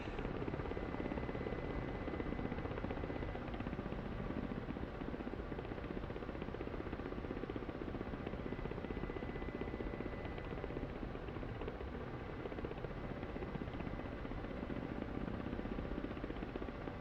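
A Ka-50 helicopter in the DCS World video game flies with a steady, loud, continuous rotor and engine roar throughout, broadband and unchanging, with no talk over it.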